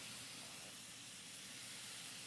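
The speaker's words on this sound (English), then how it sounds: "you hear that nice sizzle going on?" Steady, close hissing and crackling fill the whole moment as Cornish hen cooks in a hot pan, with no talking over it.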